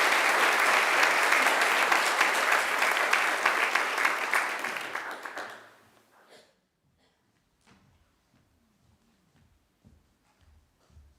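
Graduation ceremony audience applauding warmly, a dense wash of clapping for about five seconds that fades out into near silence with a few faint thumps and shuffles.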